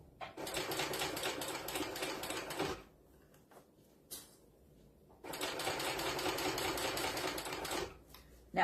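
A sewing machine stitches straight across the flap of a fabric book sleeve in two long, steady whirring runs, with a quiet pause between them filled by a few small clicks and handling taps.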